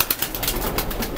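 Pigeons at a Karachi highflyer breeder's loft give soft, close cooing with a faint flutter, a brief murmuring burst lasting about a second.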